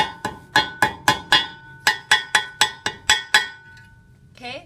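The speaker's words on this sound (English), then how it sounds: "I can reinforce them with the hammer" Hammer striking sheet metal rooftop forms, a close run of sharp ringing metallic blows in two quick bursts of six or seven evenly spaced hits, each with a bright decaying clang.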